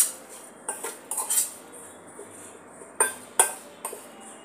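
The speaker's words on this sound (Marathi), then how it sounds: "आता हे सर्व मसाले आपण एकत्र करून घेऊया।" Spoon scraping and clinking against a bowl while spices and salt are mixed together, in short irregular bursts of metallic taps with quiet gaps between them, close and fairly clear with no talking.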